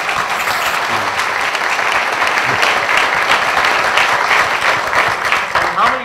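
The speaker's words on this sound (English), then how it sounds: "let's give you all a round of applause." Loud, sustained round of applause from an auditorium audience at a University of Illinois World War II veterans program, thick continuous clapping with a few voices and cheers under it.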